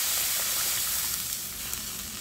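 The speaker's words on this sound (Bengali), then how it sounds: "এই পর্যায়ে কিন্তু আমি গরম জলটা দিয়ে দিচ্ছি" Hot water poured into sizzling, nearly fried spice paste for a river sarputi fish curry: a loud bright hiss and sizzle that eases slightly as it goes on, no talk.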